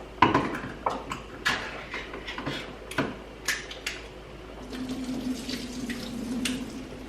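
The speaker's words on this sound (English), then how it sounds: "I'm going to drain the juice out of them." Juice from cans of whole green beans is drained, with irregular splashes and trickles of liquid followed by a steadier pouring stream, close and without talk.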